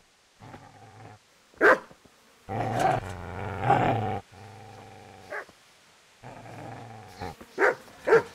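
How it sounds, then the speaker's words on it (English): A dog in the Kingdom Come: Deliverance video game growls in long, low, sustained rumbles broken by sharp, loud barks, alone and fairly close. "I'm getting closer to this dog sound."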